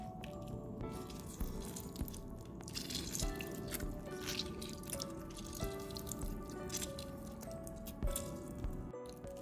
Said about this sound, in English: We'll squish the lime juice.